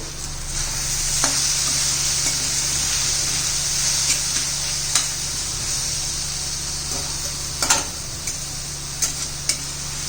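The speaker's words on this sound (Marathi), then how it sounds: "थोडस लाल तिखट हे व्यवस्थित मिक्स करून घेऊ" Spiced eggplant bharit with onion, garlic, peas and tomato sizzles steadily in a pan as red chili powder is stirred in, a continuous close hiss broken by a few sharp spoon clicks and scrapes.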